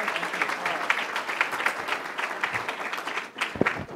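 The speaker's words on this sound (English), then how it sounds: "Let's give her a round of applause." A conference audience applauds a speaker being introduced, a dense, continuous round of clapping that holds steady for several seconds before tapering slightly near the end.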